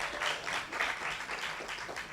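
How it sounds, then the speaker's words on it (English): An audience at a live jazz concert at the Steve Biko Centre claps in a dense, sustained wash of applause that stays fairly even and moderately distant throughout. "Can you give yourself and organizers, everyone around here, a round of applause to just kickstart this?"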